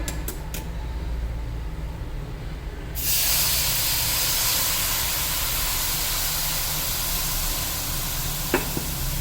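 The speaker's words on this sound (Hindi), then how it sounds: "अब इसमें दूध डाल देंगे।" Milk pours into roasted coconut in a hot pan and bursts into a loud, steady sizzling hiss that starts suddenly and holds without letting up, with a small clink near the end.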